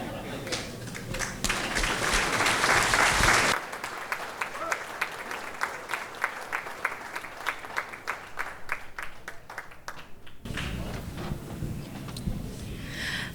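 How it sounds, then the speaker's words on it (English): Wedding guests applauding after a speech, a full round of clapping that starts loud, thins into scattered individual claps, then rises again briefly at the close, heard at moderate distance. "How about another round of applause for Skylar?"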